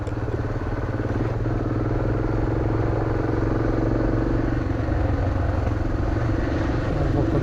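Motorcycle accelerating on a road in Morocco between Imilchil and the previous stop, a loud continuous engine drone with a rough low rumble and clattering, held steady and close throughout.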